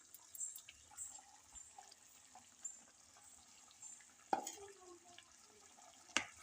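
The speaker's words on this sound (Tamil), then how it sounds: "இது கொஞ்சம் தண்ணி ஊற்றி குழம்பி ஊற்றிக்கலாம்" Water is poured into a brinjal curry cooking in a pan: a faint, quiet trickle and bubbling, with a couple of sharp clinks of a utensil against the pot.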